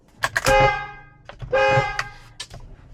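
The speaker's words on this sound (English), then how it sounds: "the horn will sound when you snap it on" A Tesla Model Y car horn blares twice in short, loud honks as the steering wheel airbag is snapped into place, with clicks and small mechanical knocks around the blasts.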